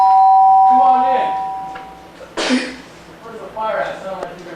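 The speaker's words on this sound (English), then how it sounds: "Sound like you're gonna ring down my doorbell." A doorbell rings in a stage play scene, a clear chiming tone held for about two seconds, followed by a short burst of voices and movement.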